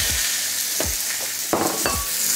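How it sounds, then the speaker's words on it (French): A beef entrecôte sears on a hot grill with a steady loud sizzle, punctuated by several soft thuds and scrapes as the meat is placed and shifted. "on place directement notre pièce de viande sur le grill"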